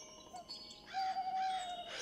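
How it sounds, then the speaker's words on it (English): Faint birds chirp and tweet in a quiet outdoor setting, with a longer trilling call rising in the second half over soft background hiss. "Chirping bugs and the occasional flap of birds seemed to be my only company in this room"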